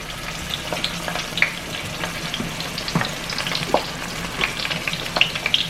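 Garlic cloves still in their husks fry in hot oil in a pot for a Caribbean grouper stew. The sizzle is dense and continuous, with scattered pops and crackles and a few clinks, and nobody speaks.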